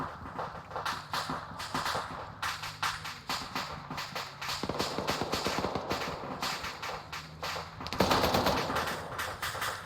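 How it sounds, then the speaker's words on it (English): In a military video game, a vehicle's machine gun fires long rapid bursts of close, dense gunfire with short gaps, continuing steadily throughout and growing louder near the end. "That vehicle is shooting at these guys up here."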